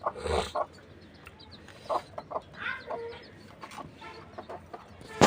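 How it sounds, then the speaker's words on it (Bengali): Laying hens on a poultry farm cluck repeatedly in short, uneven bursts, near and fairly loud, with brief quieter pauses between calls and no talking. "এখানে মুরগিগুলো ডিম দিচ্ছে আলহামদুলিল্লাহ"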